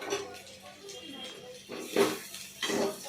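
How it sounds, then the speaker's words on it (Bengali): The lid of a pressure cooker holding boiled bottle gourd and beans for lentil dal is opened, with a few metallic clanks and scrapes, two louder ones near the end, under a woman's speech. "এবার প্রেসারের ঢাকনাটা খুললাম"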